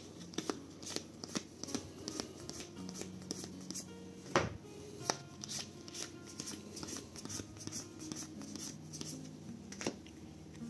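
Playing cards for the board game La Cour de Versailles are shuffled and dealt, giving a close, quiet series of crisp riffles, snaps and soft slaps at an irregular pace, with no one talking.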